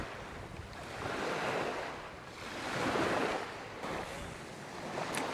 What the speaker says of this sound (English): Wind is steady, blowing right at us.